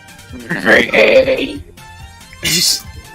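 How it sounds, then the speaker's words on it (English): A person coughs and clears their throat close by, a rough voiced burst followed after a pause by a shorter breathy hack. "Sorry if I'm coughing a little bit."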